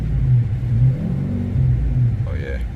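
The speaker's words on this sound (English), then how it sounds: "It's a nice turbo setup, nice growl to it." A turbocharged truck engine revs with a deep, steady growling rumble that rises and falls, close by and loud, with a voice speaking over it.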